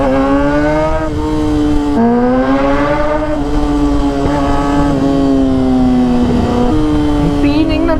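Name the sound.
Kawasaki ZX6R motorcycle engine and exhaust roar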